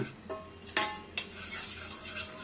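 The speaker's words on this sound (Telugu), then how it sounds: "దాన్ని కూడా మళ్ళీ కలదిప్పుకుంటూ ఉండాలన్నమాట" A spoon stirs a homemade baby-food paste cooking with water in a pan, making a few distinct scraping and clinking strokes over a light sizzle, close and moderately quiet, with no voices.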